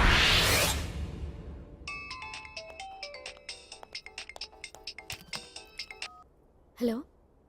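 A mobile phone ringtone for an incoming call plays a rapid, bright melodic pattern of repeated tones for several seconds, preceded by a brief whoosh and followed by a short vocal sound.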